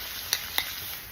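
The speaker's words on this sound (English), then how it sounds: "Put in my chopped garlic and my scallion and let that cook." Chopped garlic and scallion sizzle in a hot pan, a steady close frying hiss broken by two sharp little pops or clicks partway through.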